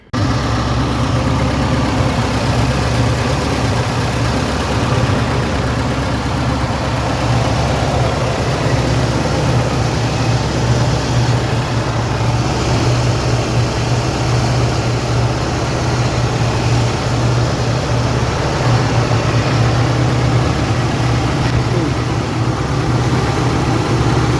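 A 1981 Cadillac Seville's engine idles steadily and loudly for the whole stretch, a constant low rumble close by with no talking.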